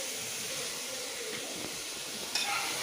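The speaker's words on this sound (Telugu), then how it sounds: "సో ఇక్కడ మటన్ ఉడకబెడుతున్నారు," Mutton cooks in a pot for a curry, giving a steady hissing sizzle with a soft clatter near the end and no voices.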